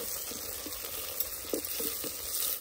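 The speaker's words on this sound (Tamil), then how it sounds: "தக்காளி சேர்த்து வதங்கும் போது இன்னுமே நல்லா வெங்காயம் வதங்கும்." Onions and tomatoes sauté in a clay pot with a steady, close sizzle and a few soft stirring clicks, no voices.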